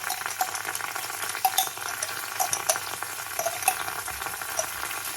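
Red curry paste fries in hot oil for a green bean curry, a steady close crackle and sizzle with scattered pops and light stirring sounds, no talk.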